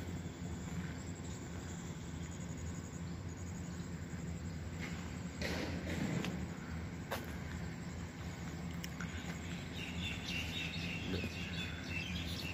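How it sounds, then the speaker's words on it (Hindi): Birds chirp in scattered bursts in the morning beside a mango tree over a steady low rumble like a distant aircraft, in a quiet outdoor setting with no voices. "देखिए चिड़ियों की आवाज़ आ रही है"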